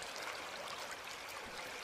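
Stream water flowing through the Inunaki Tunnel gives a steady, soft, hissing rush with an even texture and no distinct splashes, fairly faint and without voices.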